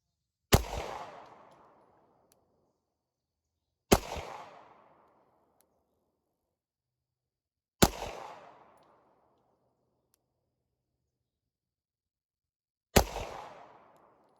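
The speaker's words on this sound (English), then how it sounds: "All 10 rounds fired" Glock 43X pistol with a threaded barrel firing single shots, four sharp loud reports spaced several seconds apart, each with a short decaying echo, outdoors with no talking.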